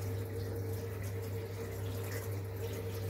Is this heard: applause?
no